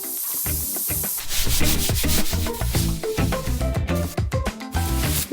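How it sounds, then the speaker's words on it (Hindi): A brush rubbing through hair in a children's role-play story, a loud close-up scratchy swishing made of repeated strokes of uneven rhythm, with no talking. "बालों को ब्रश करने का वक्त है।"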